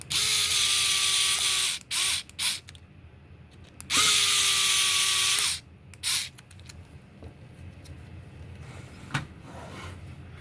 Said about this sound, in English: go ahead and put the 2 screws back in